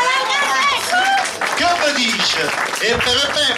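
Audience applause and crowd noise at an Italian salon evening, steady clapping mixed with a voice speaking over it.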